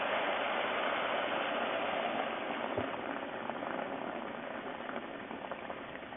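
A cooking pot of water with the ingredients for skoudehkaris simmers close by with a continuous bubbling hiss that eases slightly toward the end, and no one speaks.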